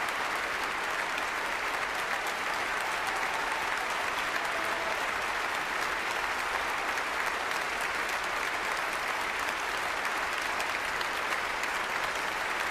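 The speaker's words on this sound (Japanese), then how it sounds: "再び聴衆は辻井さんに割れんばかりの拍手を浴びせました。" A concert audience gives pianist Nobuyuki Tsujii a thunderous ovation, with dense, steady applause filling the hall at an even level from start to finish.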